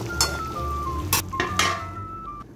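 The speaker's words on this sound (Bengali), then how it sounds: "আমি একবার ঢাকনাটা খুলছি" A lid being lifted off a cooking pot of rui fish head curry, with metallic clinks and scrapes up close over a steady background hiss, a few distinct clanks in quick succession.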